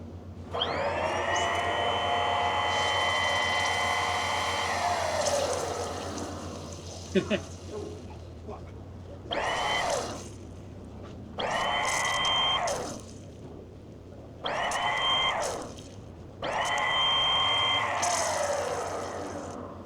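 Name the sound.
fuel priming pump running, bleeding air from fuel filter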